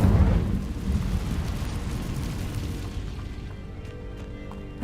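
A fire spell cast in the Hogwarts Legacy video game: a loud booming burst at the start, then a rumbling roar that slowly fades, with no voices.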